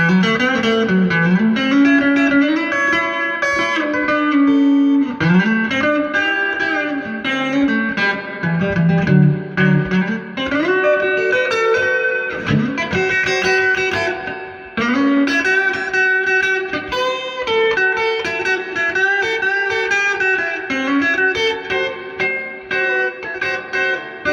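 Clean electric guitar from a custom Fender Telecaster neck pickup with Dynasonic pickups, played through a 1981 Fender Pro Reverb amp: melodic single notes and chords ring out with bends and reverb tails, loud and continuous with no voices.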